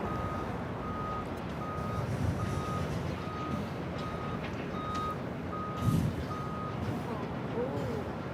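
A vehicle reversing alarm beeps steadily in an even rhythm at LAX airport, continuing beneath a constant rumble of airport and engine noise.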